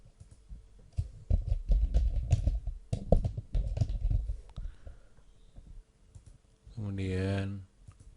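Keys clatter on a computer keyboard in quick bursts of clicks while building a table in InDesign, fairly close and moderately quiet, with someone talking in Indonesian around and over the typing.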